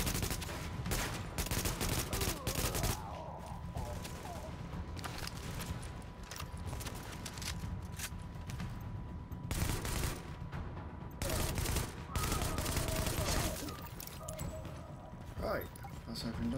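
Gunfire in The Division video game: rapid bursts and sustained automatic fire from several weapons, dense and continuous, with a player talking over the shooting.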